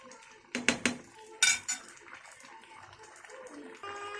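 Pieces of fish are turned over in a pan, giving a few sharp metallic clinks and scrapes of utensil on the pan, with quieter handling sounds between them.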